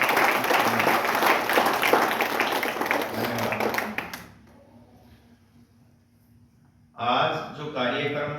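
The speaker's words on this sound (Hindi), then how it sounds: "एक बार तालियां बजाएं बहन जी" An audience at the launch of a drug-free India campaign held by the Brahma Kumaris bursts into loud, dense clapping for about four seconds. The applause dies into near silence, then a voice starts speaking.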